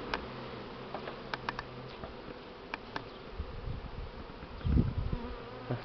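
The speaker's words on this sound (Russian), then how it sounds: "Осталось немного пчелы." Steady honey bee buzzing from a swarm fills the background, with a few sharp ticks and light knocks over a low rustling bed.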